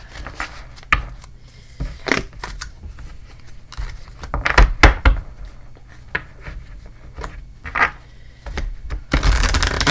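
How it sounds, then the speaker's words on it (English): Tarot cards being shuffled by hand, with irregular bursts of riffling and papery slaps and taps. These are separated by short quiet gaps and get louder and busier toward the end. "I'm going to do a quick shuffle."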